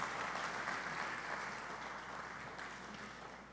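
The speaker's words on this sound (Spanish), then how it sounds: "Si quiere darle un aplauso al Señor, siéntase en libertad también" A church congregation gives applause during a morning service, a faint, distant wash of many hands clapping steadily, softened by the room.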